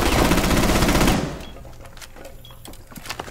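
Loud automatic gunfire in Rainbow Six Siege, a dense rapid burst lasting about a second that cuts off into quieter scattered in-game clatter and thuds.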